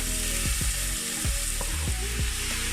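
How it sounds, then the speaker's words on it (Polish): Grated carrot fries in hot oil in a pan with a loud, steady sizzle, and stirring clicks and scrapes recur about once a second. "Na rozgrzaną patelnię z olejem dodaję marchewkę"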